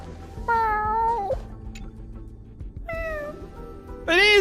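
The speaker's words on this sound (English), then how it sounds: "Sounds like a little cat crying or something." A small cat in Honkai Star Rail meows twice with clear, rising-and-falling cries, then a third meow begins at the end, each call close and loud over a quiet game soundscape.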